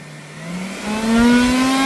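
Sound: blower blowing Colorado potato beetles into container

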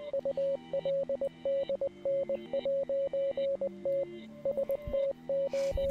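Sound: Morse code signal

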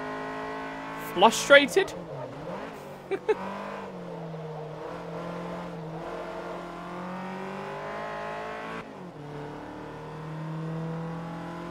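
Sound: Renault 5 engine accelerating in video game Forza Motorsport 3

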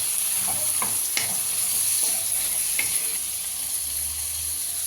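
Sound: frying eggplant and capsicum in oil

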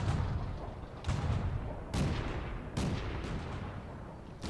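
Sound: artillery and gun fire in the video game World of Tanks

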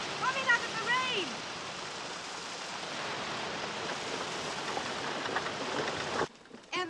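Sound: rain falling

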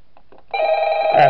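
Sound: telephone ringing in Five Nights at Smash Bros video game

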